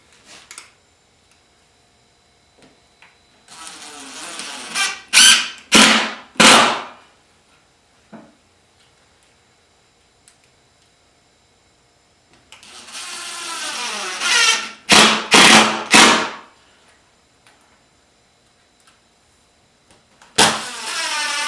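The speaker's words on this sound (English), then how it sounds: "So I'm going to screw down 4 screws just to hold that piece down to the bottom piece." Cordless drill driving screws down through wood on a picture frame jig: two groups of rising whirring runs, each ending in several sharp pulsing bursts as the screws seat, with quiet gaps between and a short final burst.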